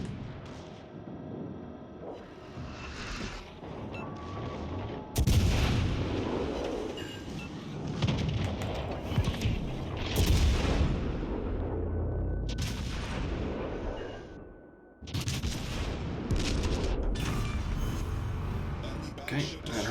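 Repeated booming naval gunfire and explosions in a ship-combat video game's Halloween event, dense and continuous with a few sharp bursts, while a player talks over the action.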